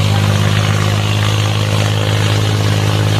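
A loud, steady low tractor engine drone chugs continuously under load in a harrow competition, with a rough, labored rumble and rattling, no voices heard.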